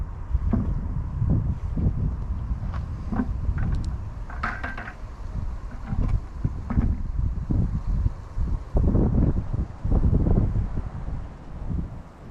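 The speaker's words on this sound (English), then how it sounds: "A little windier than I'd have liked." Wind gusts buffet an outdoor microphone, low rumbling blasts that rise and fall unevenly, loud and close, with faint rustling and a few brief higher knocks in between.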